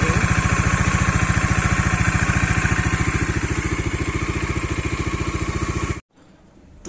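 A Bajaj Dominar 400 motorcycle engine, freshly rebuilt, runs at a steady idle with a close, even chugging beat for about six seconds, then cuts off abruptly into near silence.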